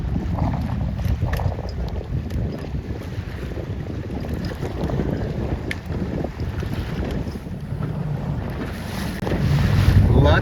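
Steady wind roars across the microphone while a 29er dinghy sails upwind in about an 8-knot breeze, with water washing along the hull; the rushing is constant and close, swelling slightly toward the end.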